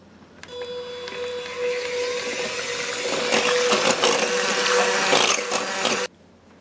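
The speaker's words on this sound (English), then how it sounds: "I'm going to do this until there are soft peaks, and I hope you enjoy my new cordless mixer." A cordless mixer whirs while whipping cream, its motor starting up, then running louder and rattling against the bowl for several seconds before cutting off abruptly.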